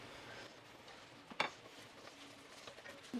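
A spoon stirs Parmesan cheese into chicken Alfredo with mushrooms in a pan, producing quiet scraping and a single sharp clink of metal against the pan, faint and close with no voices.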